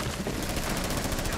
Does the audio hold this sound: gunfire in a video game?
yes